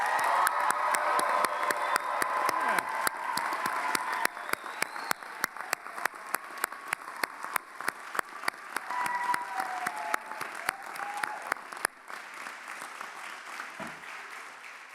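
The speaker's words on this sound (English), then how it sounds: "I would say this group deserves another round of applause." Commencement audience at a health sciences graduation ceremony breaks into sustained applause with scattered cheers and whoops, a dense steady wash of clapping that runs the full length and thins near the end.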